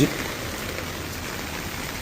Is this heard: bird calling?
no